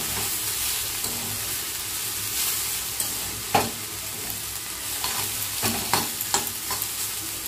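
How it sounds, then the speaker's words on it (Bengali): Chopped carrots and potatoes frying in a pan on a home stove, a steady loud sizzle with intermittent scraping stirs and clinks toward the end. "একদিকে এই যে ভাজা করছি"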